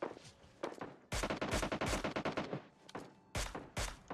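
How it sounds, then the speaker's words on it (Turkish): Gunfire in PUBG Mobile, close bursts of rapid automatic shots in several volleys with brief gaps between them. "Şu karşıdakileri vurmamız lazım Sinan da"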